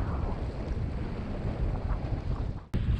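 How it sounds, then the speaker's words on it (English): Steady strong wind rushing past a sailboat leaving a channel, a continuous loud roar with water wash beneath, ending in a brief dropout and buffet. "the channel widens and we're picking up wind"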